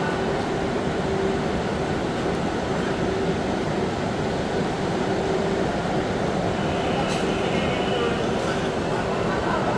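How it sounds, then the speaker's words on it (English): Steady loud rumble and rush inside a Chinese high-speed train between Guangzhou and Yangshuo, continuous throughout, with a person talking over it. "It's just got off the super fast train."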